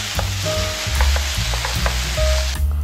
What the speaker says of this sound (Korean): 어묵볶음을 만들어 보겠습니다.